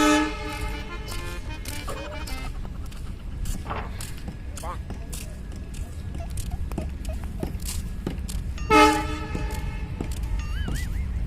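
A train passes at a station with a loud, tonal horn sounding a couple of times over steady rumbling clatter, while people talk nearby throughout.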